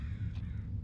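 A crow caws once in the Summer of '58 video game, a short, fairly faint call over a steady low background hum.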